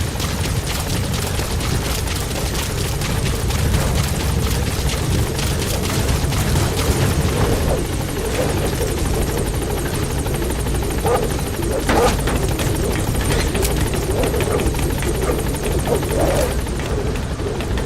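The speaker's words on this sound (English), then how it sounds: "Support helicopter has arrived." Support helicopter from the video game Metal Gear Solid V arriving at a landing zone: a steady, loud rotor roar with broadband wash throughout, joined by a few short sharp transient sounds.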